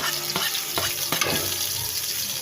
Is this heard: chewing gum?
no